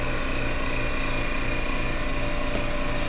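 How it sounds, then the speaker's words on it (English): A pump draws down air pressure inside an avionics lab altitude trainer chamber, a loud, steady mechanical drone with a constant whine that holds unchanged throughout, with no voices. "I'm pumping the pressure down inside this chamber, which is simulating us going up in altitude"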